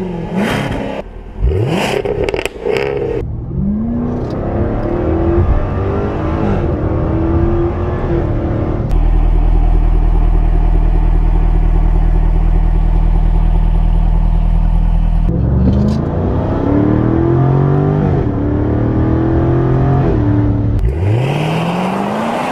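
A Jaguar F-Type R 75 with a supercharged 5.0 V8 making 575 hp revs hard in sharp rising sweeps with supercharger whine, settles into a loud, steady, rumbling idle, then climbs in repeated revs again.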